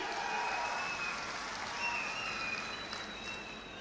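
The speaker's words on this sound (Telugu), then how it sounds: "మీరందరూ కూడా గట్టిగా చప్పట్లు కొట్టి అభినందించండి" Audience applause at a political rally, a steady wash of clapping from a large crowd that holds fairly even throughout, with a faint voice or whistle-like tones drifting above it.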